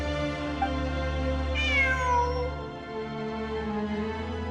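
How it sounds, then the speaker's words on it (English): A cat in the video game Genshin Impact meows clearly and up close, one drawn-out rising and falling call over a steady low background hum, with no talking. "It really is a cat."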